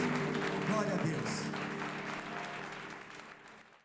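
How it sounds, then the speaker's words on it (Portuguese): Church congregation at a worship service clapping in praise, moderate applause fading toward the end, mixed with voices and the tones of a sustained instrument or hum underneath. "Uma grande salva de palmas para o Senhor"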